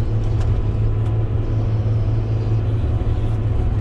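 A motor grader works near a municipal airport escape runway, pushing and leveling material with a steady, loud, low diesel rumble that holds constant throughout, close by and without talk.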